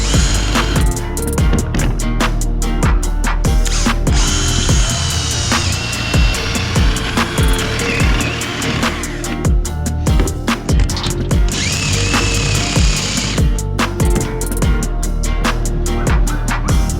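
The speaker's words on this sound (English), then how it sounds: "I just need to find my 3/8 drill bit again." Power drill with a 3/8 bit boring through material during a rooftop deck build on a school bus conversion: repeated whining bursts that stop and start, some long and loud, others short, with clattering between them.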